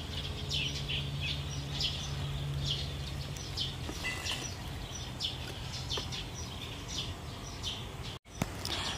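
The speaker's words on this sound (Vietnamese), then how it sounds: "các bạn nghe được tiếng chim hót. Các bạn nghe không?" Birds singing in a garden in the morning, many short chirps and tweets scattered continuously over a soft outdoor background, moderately near, with no one speaking.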